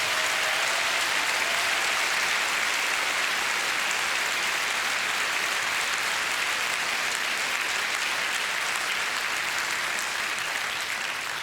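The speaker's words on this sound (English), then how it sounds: "give a round of applause to these beautiful musicians on stage" An audience applauds musicians on stage at a holiday concert, with dense, continuous clapping that stays loud and even throughout.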